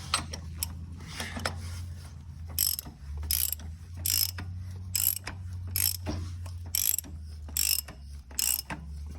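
A hand ratchet clicks in repeated bursts while tightening the harmonic balancer bolt on a Hemi engine, each swing giving a quick run of metallic pawl clicks over a steady low hum, close and fairly quiet.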